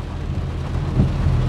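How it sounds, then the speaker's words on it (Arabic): Heavy rain during a thunderstorm in Agadir, Morocco, a dense steady roar of downpour with a low rumble of thunder beneath, loud and continuous without talk. "امطار غزيره، عاصفه رعديه مجهده"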